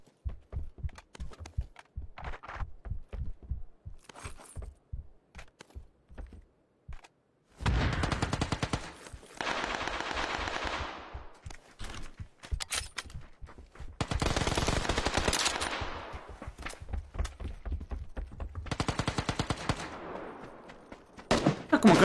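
Video game gunfire during a live-streamed match, heard as sharp rapid bursts with repeated single shots early on and then several long, loud automatic volleys, with no talking.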